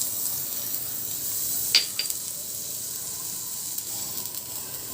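Finely chopped garlic sizzles in hot oil for drumstick soup, a steady close hiss with a brief louder spit and crackle as pieces are stirred.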